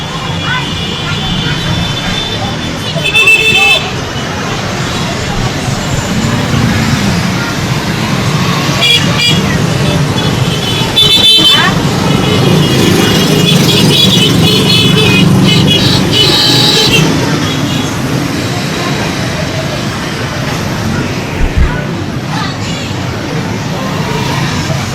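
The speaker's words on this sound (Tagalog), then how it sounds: "Traffic." Road traffic with car horns in Mamburao, Occidental Mindoro, a steady loud roadside roar of motor vehicles with short honks cutting in now and then, voices and crowd noise mixed underneath.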